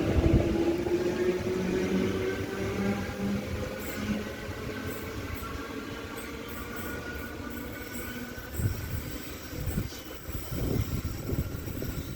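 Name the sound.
freight train passing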